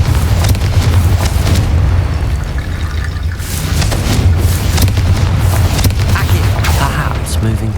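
Repeated Confringo blasting curses in Hogwarts Legacy, loud rumbling bursts and crackling booms filling the scene continuously, with speech-like game sounds mixed underneath.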